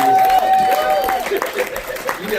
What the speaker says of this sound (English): How about a round of applause for all of the Rabbit Box staff, the board of advisors?